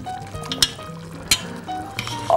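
Tomato sauce frying and sizzling in a pan during home cooking, a steady close sizzle with a few sharp clinks of a utensil stirring against the pan.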